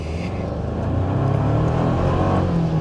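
A 2024 Toyota Tacoma SR5 pickup's turbocharged engine revs and accelerates steadily in a parking lot, a loud continuous droning roar that climbs in pitch, heard close with no talking.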